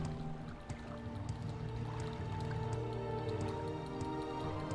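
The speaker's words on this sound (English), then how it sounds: "Where's the waterfall? It's coming out of the building." Waterfall water in the game Morrowind pours out of a building as a steady, continuous rushing wash, layered with sustained tonal background sound throughout.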